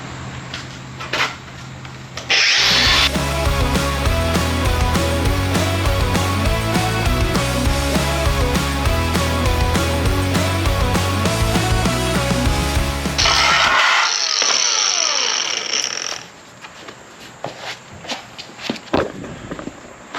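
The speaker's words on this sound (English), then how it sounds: "So get to grinding on this thing." A power grinder cuts into a sheet-metal door panel from an OBS GMC 3500 pickup, starting abruptly with a loud, continuous harsh whine for about eleven seconds, then spinning down, followed by scattered clanks and handling noises.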